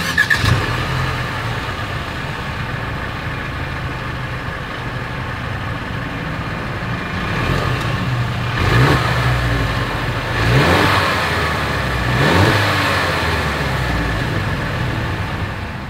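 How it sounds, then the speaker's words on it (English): A 2022 Mercedes-Benz GLC 300 AMG Line idles, then its exhaust rises in three loud revs, each swelling and falling back to idle, heard up close with no talk. "As always, here is that exhaust clip."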